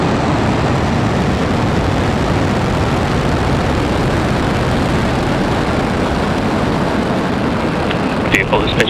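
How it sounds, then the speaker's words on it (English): SpaceX Falcon 9 rocket lifting off from Space Launch Complex 40 at Cape Canaveral Space Force Station, Florida, carrying Thuraya 4: a loud, steady broadband roar holding constant throughout, with a few brief crackles near the end. "Falcon 9 has successfully lifted off from Slick 40 at Cape Canaveral Space Force Station in Florida."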